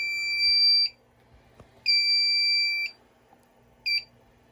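Three electronic alarm tones blare from a malfunctioning Honeywell Notifier NFW2-100 fire alarm panel showing a NAC 1 open fault, two long steady beeps and a short final one, separated by brief quiet gaps.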